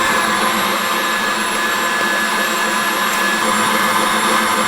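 A KitchenAid Artisan 5 quart or Breville stand mixer whips egg whites with cream of tartar, a loud, steady, high-pitched motor whine and whirring that runs without pause, close up and alone.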